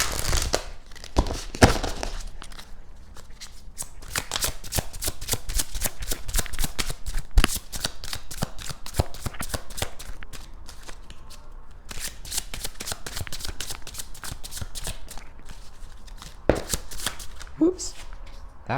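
Oracle cards from a crystal wisdom healing deck are shuffled by hand, with steady rapid riffling and crisp flicks close by, running throughout with a few louder snaps.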